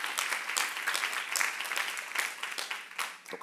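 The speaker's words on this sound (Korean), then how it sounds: "박수 한번 하세요" Audience at a Korean church youth service sermon applauding on cue: brisk, lively clapping from a small crowd, steady and moderately loud for a few seconds with no talking over it.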